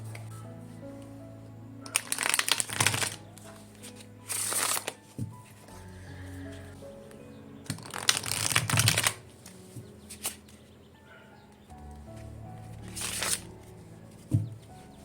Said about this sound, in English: Okay, I feel like it needs a bit of shuffle.